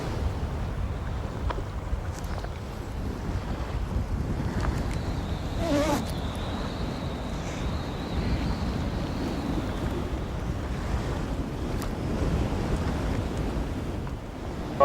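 Strong wind howls steadily across beach dunes, blowing sand with a constant roaring rush and buffeting the microphone for the whole stretch, with no voices heard.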